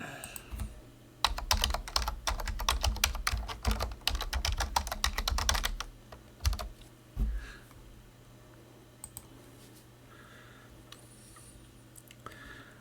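An email address is typed on a computer keyboard in a fast run of clicky keystrokes for several seconds, then a few scattered key taps and a click in a quiet room.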